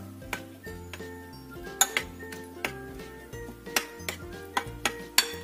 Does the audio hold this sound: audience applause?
no